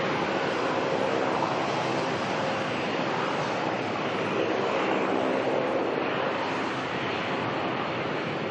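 A Hong Kong Airlines airliner at Melbourne Airport gives a steady, loud, broadband engine roar that holds constant throughout, with no voices.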